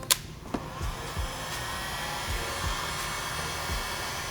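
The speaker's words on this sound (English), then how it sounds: "now we're gonna take our trusted heat gun and shrink the heat shrink." A heat gun blows a steady whooshing roar while shrinking heat shrink tubing during a horn wiring job on a VW MK7 GTI, with a few faint clicks and handling knocks at the start.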